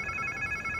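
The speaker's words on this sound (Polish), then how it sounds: "To chyba czyjaś komórka." A cell phone rings steadily in Marvel's Spider-Man 2, a bright electronic tone heard close and alone in a short burst.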